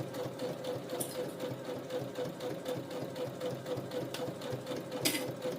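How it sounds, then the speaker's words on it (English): A Brother CS7000X sewing machine stitches a bucket hat, its motor running in a steady fast whir with the needle chattering rhythmically, close and continuous, with a couple of brief sharp clicks. "Much faster sewing this part."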